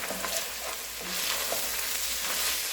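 Crushed garlic fries with meat in a pot, giving a dense, even sizzle up close with a few light stirring scrapes over its brief length, no voices.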